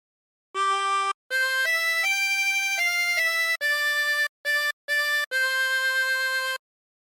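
A 24-hole tremolo harmonica plays a slow Waltzing Matilda phrase, a series of sustained reedy notes separated by short breaths and gaps, clear and close against a silent background.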